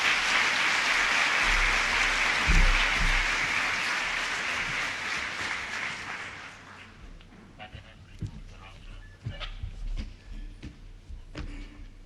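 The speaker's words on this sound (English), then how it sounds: "please give them a warm round of applause" Audience applause for Rita and Robert Bruce taking the stage at a Sathya Sai parenting talk, a broad steady wash of clapping for several seconds that gradually thins and fades out, leaving scattered claps and room noise.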